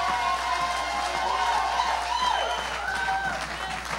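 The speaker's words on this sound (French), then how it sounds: "Acclamez l'Éternel très fort" Church congregation cheering and applauding loudly, a dense continuous roar of clapping and raised voices with no breaks, close and filling the space throughout.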